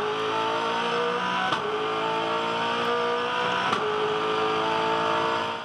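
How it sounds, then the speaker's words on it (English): A 2010 V8 Supercar race car engine roars loud and close from onboard at the Sydney 500 street race, holding a high-pitched drone with two quick gear-change dips, no talking. "He's got a pile of pace in that car at the moment, Jamie Whincup."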